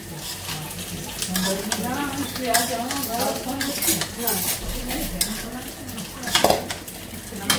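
A knife cuts dragon fruit and papaya on a board in a home kitchen, the cutting mixed with clinking utensils and a soft sizzle from a nearby pan while a voice talks over it.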